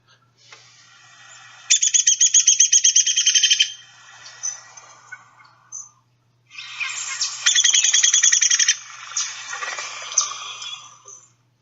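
Two bursts of a downy woodpecker's whinny song, each a rapid run of sharp piping notes that starts level and falls in pitch toward the end, clear and fairly close with a short gap between.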